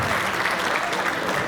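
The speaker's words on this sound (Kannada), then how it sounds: "ಸರಸ್ವತಿಯ ಸುಪುತ್ರರಾದ ರಂಗಾಯಣ ರಘು ಸರ್ ಅವರನ್ನ ವೇದಿಕೆ ಮೇಲೆ ಬರ್ಮಾಡ್ಕೊಳ್ಳೋಣ ಜೋರದ ಚಪ್ಪಾಳೆಗಳ" Loud, sustained applause from a crowd at a Kannada film success meet as a guest is welcomed onto the stage, dense and continuous clapping with faint crowd murmur.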